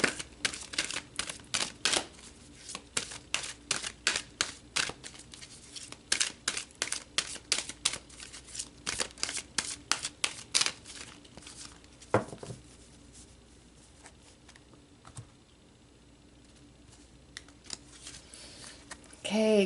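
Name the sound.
shuffling and pulling tarot cards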